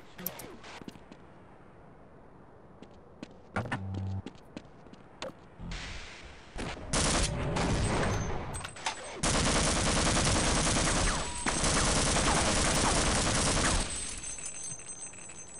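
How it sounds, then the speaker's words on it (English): Shotgun alternate fire in Half-Life, loud overlapping blasts erupting after a quieter stretch, followed by a long, dense barrage of gunfire, with a voice speaking briefly before it. "My shotgun has alt fire too?"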